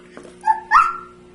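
A child imitates a dog barking while naming a flashcard picture: two short voiced woofs, the second louder and longer, close and clear over a quiet room hum.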